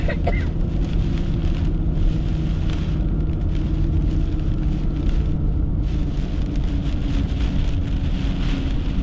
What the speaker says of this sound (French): Forte rafale de vent.